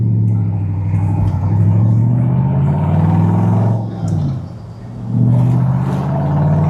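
A custom 1963 Chevrolet split-window car engine revs steadily up, dips briefly as it shifts gear, then pulls strongly again, its rumble loud and close throughout.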